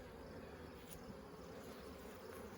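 Honeybees hum in a dense, continuous drone all around a beekeeper at the hives in the evening, close and steady with no talk.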